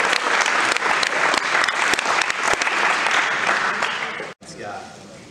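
An audience claps loudly and steadily for a few seconds at a gathering, then the applause fades and cuts off near the end.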